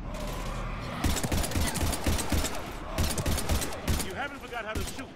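Gunfire from the Mass Effect 3 video game, bursts of rapid shots and heavy thuds repeating through the whole stretch over a busy combat mix, with voices talking among the shooting.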